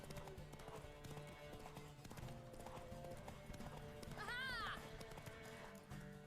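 Galloping horse hooves pound in a rhythmic clip-clop during a race in the Witcher 3 video game, steady under game music and a brief whinny.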